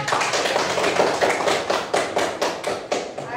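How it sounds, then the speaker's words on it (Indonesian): Group of people clapping hands after a classroom presentation, a close, fairly sparse patter of individual claps with uneven rhythm, several seconds long. "Ya, tepuk tangan."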